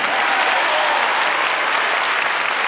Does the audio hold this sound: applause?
yes